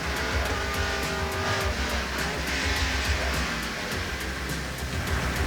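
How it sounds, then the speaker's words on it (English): A NASCAR race car in 1989 slides off the course on oil toward a tire barrier, a steady loud engine roar with a faint tire squeal running throughout. "The car ran off the course as he got in some oil."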